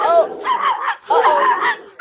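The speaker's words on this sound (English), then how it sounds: "Was there another dog there?" A dog yelps and barks in short bursts in the background of an online NBA talk show, the sounds close and mixed with voices.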